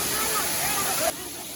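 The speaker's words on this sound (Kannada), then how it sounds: "ಫಾಲ್ಸ್ ತುಂಬ ಚಂದ ಉಂಟು." Sirimane Falls near Sringeri in Chikkamagaluru roars with a steady, close rush of falling water that briefly dips in level near the end.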